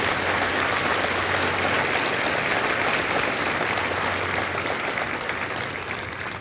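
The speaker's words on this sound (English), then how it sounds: "Please give a round of applause to the families of Lima Company." A large crowd at a Marine Corps recruit graduation in San Diego applauds the families, a dense, loud roar of clapping that holds steady and then begins to fade near the end.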